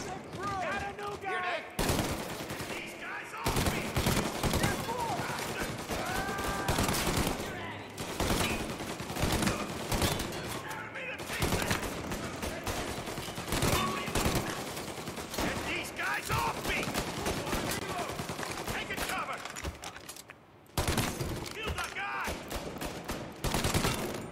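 Gunfire in Mafia: Definitive Edition: dense, loud bursts of shots and rapid automatic fire keep going almost without a break, with only a few short pauses.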